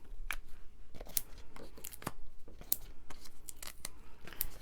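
Adhesive foam dimensionals have their paper backing peeled away during card making, producing a series of short, close, crisp tearing and crinkling sounds with quiet gaps between them.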